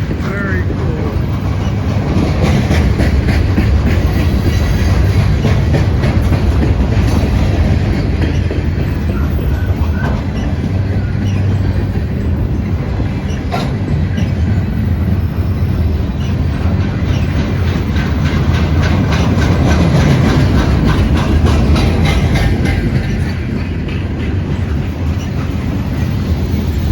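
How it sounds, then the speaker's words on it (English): A long freight train of fifty-plus cars passes nearby, a continuous heavy rumble with clickety-clack of wheels over rail joints and brief squeals, loud and unbroken throughout. "It was pretty cool watching the train go by"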